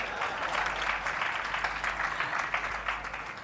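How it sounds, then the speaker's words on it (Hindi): An audience claps steadily throughout at a spiritual talk, a dense wash of many hands at moderate loudness with no voices on top. "ये एक्चुअली ताली बजाने का टाइम था।"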